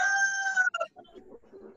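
Chickens heard over an open microphone during an online lesson, a drawn-out crow-like call followed by a few softer clucks, fairly close and alone without talk.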